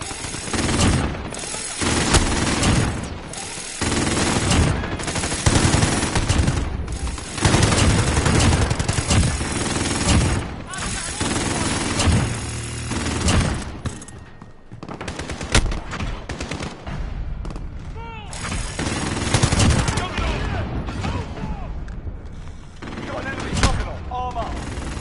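Sustained automatic gunfire and scattered shots from Call of Duty Modern Warfare rattle almost without pause, loud and close, with brief lulls between bursts and a voice occasionally audible beneath the shooting.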